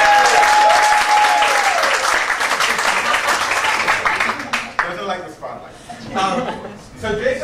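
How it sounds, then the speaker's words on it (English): An audience at WCMIF 2019 bursts into loud applause with a few chuckles. The clapping is dense at first, then thins out into scattered claps as voices and laughter break through near the end. "let's give a round of applause"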